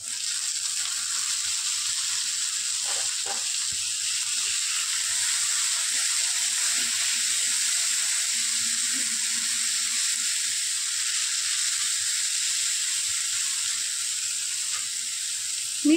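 Tomatoes hitting a hot pan for a soya chunks and spinach dish set off a constant bright hissing sizzle, even and unbroken, with a few faint knocks early on.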